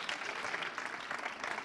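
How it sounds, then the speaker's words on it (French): An audience applauds a group at the end of a presentation, steady dense clapping that holds evenly loud for the whole stretch with no voices over it. "on peut applaudir ce groupe"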